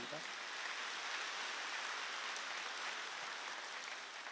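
Korean church congregation applause at a Wednesday worship service, a steady, even wash of many hands clapping with no break across the whole stretch.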